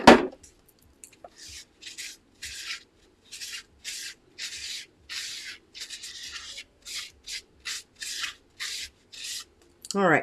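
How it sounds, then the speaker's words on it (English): Short repeated rubbing strokes as a foam stamp is wiped clean with rubbing alcohol and a baby wipe, around fifteen soft scrubbing bursts in an uneven rhythm, close and fairly quiet. "I'm going to clean it with a little bit of rubbing alcohol and a baby wipe."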